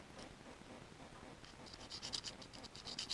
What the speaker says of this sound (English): that we're polishing up